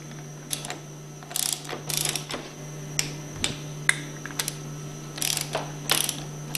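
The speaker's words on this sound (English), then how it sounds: "torque these valve caps to 85 foot-pounds" Bursts of rapid ratchet-wrench clicking while torquing the valve caps on a 2400 plunger pump, several short runs of close, fairly quiet pawl clicks separated by pauses.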